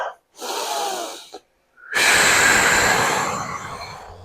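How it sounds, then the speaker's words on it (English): A deep breath drawn in close to the microphone, then a second, longer breath a moment later, both airy and loud with short silences between them. "So I'm just going to take a deep breath in, one more"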